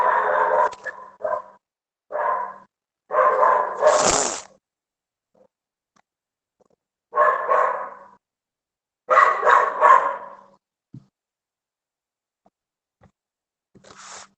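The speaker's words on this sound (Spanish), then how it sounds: "Qué molesto es ese perro." A neighbor's dog gives several separate bursts of barking with quiet gaps between them, moderately loud and alone.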